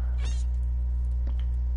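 A cat meows in the Minecraft video game, one short close meow followed by a fainter second one over a steady low hum, with no talk.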